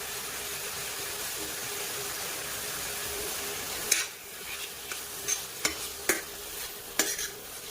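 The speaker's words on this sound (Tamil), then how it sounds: "எண்ணெய் ஊற்றிட்டு இந்த சிக்கனை ஒரு 5 நிமிஷம் நம்ம வேக வச்சு எடுத்துக்கலாம்" Chicken frying in oil in a pan, a steady close sizzle with several sharp clinks of a utensil stirring against the pan in the second half.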